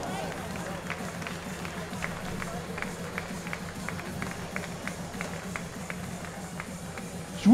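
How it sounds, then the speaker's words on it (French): An audience at a cattle show claps for the adult champion cow. The clapping is steady and rhythmic, at moderate volume over a low crowd murmur. "Vos applaudissements."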